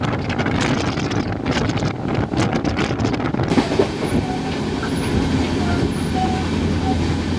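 A local train runs on the rails on the Sealdah to NJP route, with a continuous loud rumble, wind buffeting and steady rhythmic wheel clatter throughout, with no talking.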